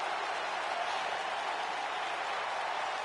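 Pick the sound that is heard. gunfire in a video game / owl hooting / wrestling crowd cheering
wrestling crowd cheering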